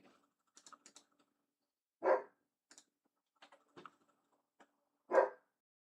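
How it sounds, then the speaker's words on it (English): A dog barks in the background, two louder barks spaced about three seconds apart standing out over faint scattered clicks like keyboard typing, with no voices. "not have as much of the dog barking in the background"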